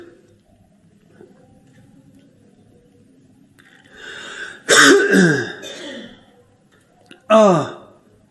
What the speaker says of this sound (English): I got a cough again like crazy.